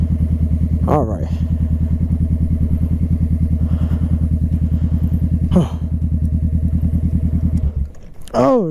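A 2016 motorcycle engine idles and runs close by, a loud, steady low putter that holds for about eight seconds before cutting out, with a few brief clatters and thumps along the way.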